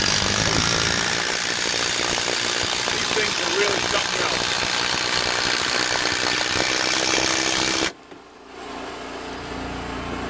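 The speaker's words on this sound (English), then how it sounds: "I'm just putting 2 6-inch timber locks in this, the top of the rail" Power drill drives 6-inch timber lock screws into the top of a wooden porch railing at an off-grid cabin, a loud sustained grinding whine that cuts off abruptly near the end, with faint speech beneath.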